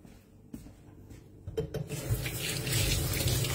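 A kitchen sink tap opens after a few soft knocks and rubbing sounds, then water runs in a steady, close rush that grows louder and continues to the end.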